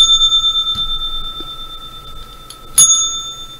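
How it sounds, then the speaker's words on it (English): A bell rings with a bright sustained metallic tone, pulsing in a quick repeated rhythm and then struck again near the end, loud and close with no talk over it, in the opening of a live trading broadcast. "The bell's not feeling well today."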